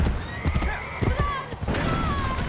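A horse whinnies in the Assassin's Creed 2 video game, with several neighs and hoof clip-clops standing out over a busy game soundscape. Bits of talk come in underneath.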